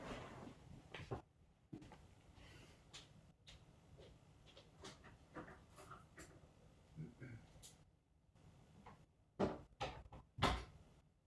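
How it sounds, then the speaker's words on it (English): An interior house door is pushed shut with a few soft clunks and knocks in a quiet room, followed by scattered handling thumps. "I have to close the door."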